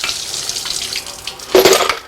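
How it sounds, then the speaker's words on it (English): Water poured off soaked machine parts, a close splash and gurgle that starts late and follows a quieter stretch of light trickling and clinking. "we can now pour off the water"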